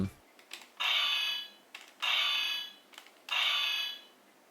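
A DX Ryotegasword toy sword from No.1 Sentai Gozyuger sounds a repeated electronic effect, three bright buzzing bursts at a regular pace, clear and close, with a short click at the start.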